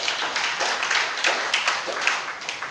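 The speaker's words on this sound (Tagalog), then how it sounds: "So isa muna pong palakpak sa Panginoon" A church congregation claps for the Lord during a morning worship service, a steady, dense round of applause that carries on without pause for the whole moment.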